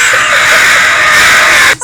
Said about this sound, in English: thank you, Scarecrow, for checking in and scaring away those crows.